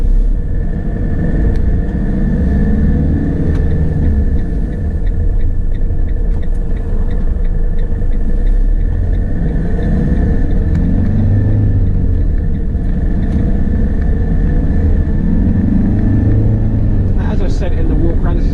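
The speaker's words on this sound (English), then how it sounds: "So we're going to take it on a quick test drive, so let's start her up." A 2017 Fiat Ducato six-speed fridge van on a test drive: a steady, loud low engine rumble and road drone runs throughout, with a person talking over it.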